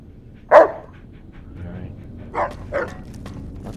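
A dog in the Fallout New Vegas game, Old World Blues add-on, lets out one loud close bark, then two softer barks a couple of seconds later over quiet game ambience.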